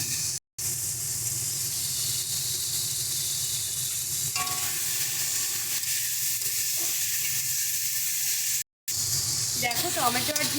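Chopped tomato dropped into a hot frying pan while cooking ridge gourd with lote fish, giving a loud, continuous sizzle and hiss, briefly cut twice, with stirring noises toward the end.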